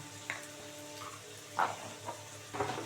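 Prawns, potato and radish frying in a pan, a soft steady sizzle with faint clinks and scrapes of stirring.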